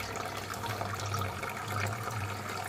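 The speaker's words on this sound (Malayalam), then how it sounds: "വെള്ളം അടിച്ചെടുത്ത ശേഷം ക്ലിയർ ചെയ്ത് വീണ്ടും ഇതിലേക്ക് ഒഴിക്കുകയാണ്" Water pours and trickles steadily into a sponge filter setup, a soft continuous splashing flow with a low gurgle underneath, fairly quiet and close.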